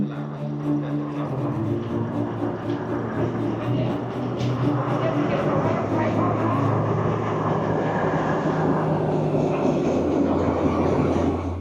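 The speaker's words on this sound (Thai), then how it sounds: "นี่คือรถไฟสายที่ถูกที่สุดในประเทศไทย 13 บาท" A third-class train in Thailand rumbles along in a long, steady clatter, with humming tones underneath and a loud, continuous roar heard from on board.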